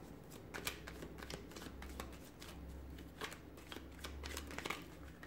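Tarot cards being shuffled by hand close up, giving a run of quick papery riffles and flicks at an uneven rhythm over a low hum.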